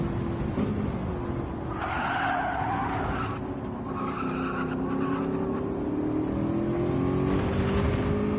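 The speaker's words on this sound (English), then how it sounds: "Again, more gravel being picked up." Race car in a racing video game kicking up gravel, a steady engine drone with gritty spraying bursts of stones hitting underneath, close and continuous.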